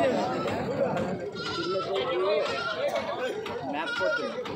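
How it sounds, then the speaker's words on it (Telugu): Large long-eared male goats bleat repeatedly and close by at the busy weekly Kadiri livestock market, their wavering cries overlapping with the constant chatter of people talking nearby. "పెద్ద చెవుల మేకపోతు భారీ మేకపోతు"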